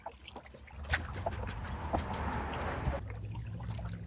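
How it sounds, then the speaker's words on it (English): A stir stick swishes through a container of navy blue fabric dye and water, a close, continuous sloshing and swirling with a few soft knocks. "Looks like it's stirring it up pretty good."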